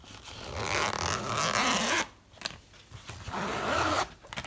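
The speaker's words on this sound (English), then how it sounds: "So the front pouch got two zips." Two zips on the front pouch of a Fender FA610 dreadnought guitar gig bag are pulled open, giving a loud, close rasping zipper sound in two bursts separated by a brief pause and some handling noise.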